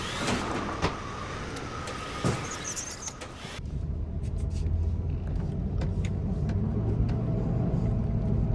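A station wagon drives along with a steady low road rumble and cabin hum, with a few rattles and bumps from a slightly bouncy ride, with no talking.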